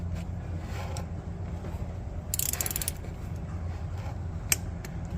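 A torque wrench clicking while PACCAR compressor head bolts are tightened, with a brief cluster of sharp metallic clicks and a later single click, close by over a low mechanical hum.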